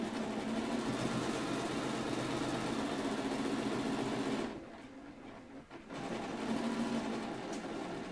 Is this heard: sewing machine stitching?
yes